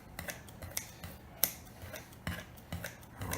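Quiet, crisp snips of scissors cutting cooked octopus, arriving as a series of irregular close clicks with short pauses between them.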